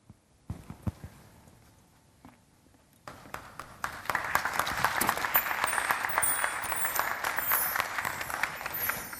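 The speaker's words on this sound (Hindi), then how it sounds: "आपकी तालियां बता रही हैं कि प्रस्तुति निश्चित तौर पे ही" Theatre audience applause at a drama festival performance, starting in scattered claps after a quiet moment and building into sustained, dense clapping that fills the hall.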